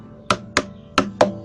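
Four hollow, thumping slaps on the body of an acoustic guitar, in a quick uneven rhythm, close and fairly loud.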